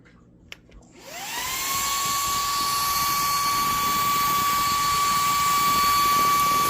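Nicebay cordless handheld vacuum running on its low setting while picking up scattered coffee grinds, starting with a rising whir that settles into a steady, loud, continuous high-pitched motor whine with airy suction noise.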